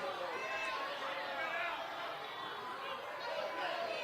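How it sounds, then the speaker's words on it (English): A crowd at a political event with Donald Trump murmurs and chatters in a loud, continuous wash of many voices, steady throughout with no pauses. "Listen to that crowd."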